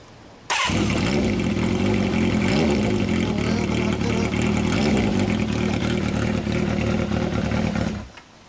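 A 1983 Kawasaki GPz400F motorcycle with a homemade cut-down short muffler, its engine roaring loud and close for about eight seconds in a sustained rev before cutting off, with no talk over it.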